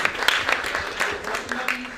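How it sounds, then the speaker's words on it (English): A literary festival audience claps for a visiting playwright, short scattered applause with individual claps audible, moderately loud and brief. "please, an applause from her."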